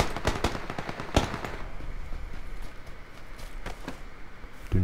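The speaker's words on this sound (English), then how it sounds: "Okay, that's someone else shooting at someone else." Video game gunfire in PUBG, distant rapid shots and bursts over a steady background rumble, with a few sharper reports standing out; no speech.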